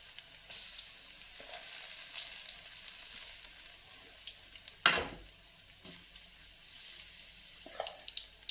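Cauliflower pakora in batter fries gently in oil over a low flame, a soft continuous sizzle with occasional louder crackles and stirring scrapes, heard up close without any talking.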